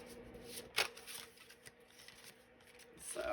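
A Dark Mirror tarot deck is shuffled quietly in faint, brief riffling and rubbing bursts, with one sharper snap near the start and soft handling noise around it.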